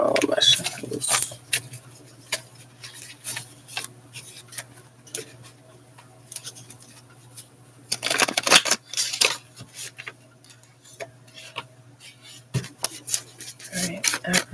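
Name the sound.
tarot cards being shuffled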